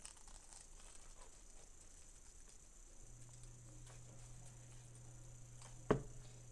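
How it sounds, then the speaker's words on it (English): Scissors cut along a drawn line in a sheet of paper as a craft shape is turned and trimmed, faint close crinkly snips under a low hum, with one sharper snip near the end. "Now I'm going to cut out the second eye."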